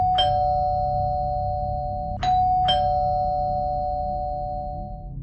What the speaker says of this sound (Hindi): बार बार घंटी बजने से मेरी नींद खुल गई।